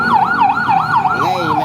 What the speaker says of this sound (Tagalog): Ingay, may ambulansya.